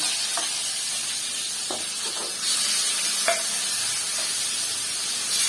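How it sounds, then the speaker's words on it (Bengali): Hilsa fish frying in hot oil, a continuous close sizzle and hiss with sharp spattering pops and occasional stirring scrapes, no voices. "প্রচুর তেল ছিট করছে মাছ হ্যাঁ ইলিশ মাছের তেল দারুণ লাগে"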